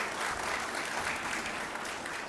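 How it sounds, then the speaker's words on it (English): Sustained applause from a gala awards audience at the Caribbean Broadcasting Union Media Awards, honouring the Dancing Africa troupe; dense, steady clapping fills the room throughout at an even level. "give another round of applause for the excellence of Dancing Africa"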